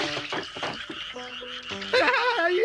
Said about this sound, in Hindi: ये क्या, हमारा सारे मेढक बाहर निकल गए